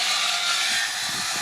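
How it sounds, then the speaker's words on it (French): Saw cutting in a street during renovation work, heard as a steady broadband rasp that runs through the whole short stretch at moderate level, with no talk over it. "Ça scie dans la rue, ça rénove."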